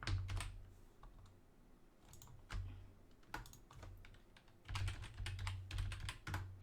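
Clacking on a computer keyboard with sticky keys comes in quiet, uneven bursts of close typing separated by brief pauses.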